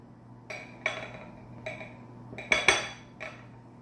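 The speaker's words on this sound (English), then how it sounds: "I put it on the plate where I want it to be, and then I flip it." Cake pan clinking on a plate as a molten chocolate cake is flipped with an offset spatula: a series of sharp metallic and ceramic knocks, clearest in a close double clatter near the middle, with no talking.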